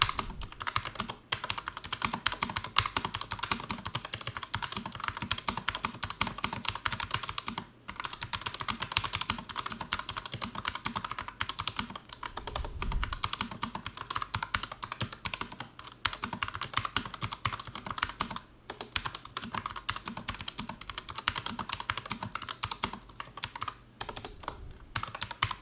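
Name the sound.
typing test on Redragon Horus K618 mechanical keyboard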